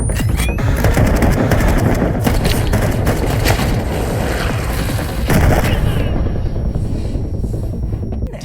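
Anti-demon bullet firing and exploding during a Dante fight in a video game, with loud continuous booms, gunfire bursts and a heavy soundtrack throughout, ending in a quieter rumble.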